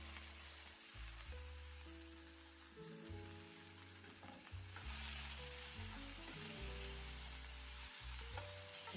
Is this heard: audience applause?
no